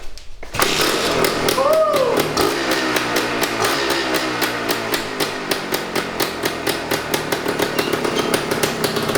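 A classic Suzuki motorcycle engine fires up and runs close by with a crisp, rapid popping exhaust beat, loud and steady for several seconds.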